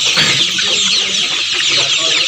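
Brown cock chickens in a poultry shed, a dense steady chorus of clucking birds filling the space, with someone talking underneath.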